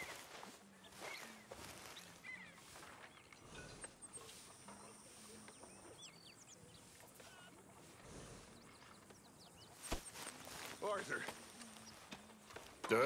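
Horse hooves clip-clop at a steady walking pace in Red Dead Redemption 2, moderately close and fairly soft, with birdsong and game ambience around them and a voice talking over much of it.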